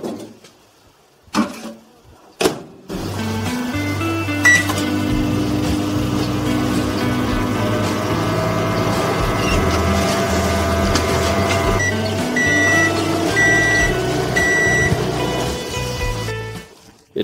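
A few clicks and knocks, then a steady mechanical hum with a low drone and whirring tones runs continuously, from a grill-equipped microwave oven running with a glass of water inside.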